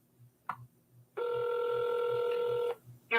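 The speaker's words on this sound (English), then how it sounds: "And while this is ringing" A steady electronic ringback tone on an outgoing call to a Texas pre-foreclosure lead, one long sustained ring with short chirps before and after, over a faint repeating low pulse; no talking.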